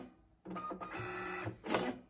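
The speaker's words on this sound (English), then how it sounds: "And it prints from our Brother QL 800 printer." Brother QL-800 label printer printing labels: a short whirring feed with a soft mechanical hum, then a quick sharp cut or clack at the end, close up in a quiet room.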